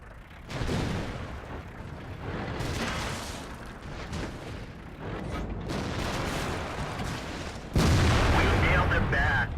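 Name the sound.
tank cannon fire in World of Tanks video game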